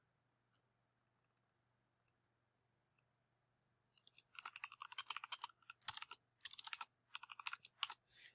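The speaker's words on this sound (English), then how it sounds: "you can just change this by typing it" Rapid clicking of computer keyboard keys while text is typed, starting after a quiet pause and continuing in dense bursts, close and moderately loud with no voices.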